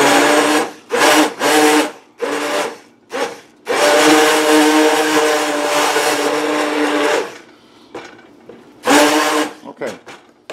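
An immersion blender whirs through homemade soup in a noisy kitchen, running loud and steady for several seconds between short bursts, with people talking nearby.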